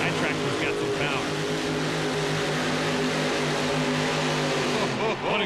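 Loud, continuous engine roar from a pulling tractor powered by four Keith Black engines and a Chevy-based Aries engine during a full pull in the Houston dome, holding steady throughout with a voice speaking over it.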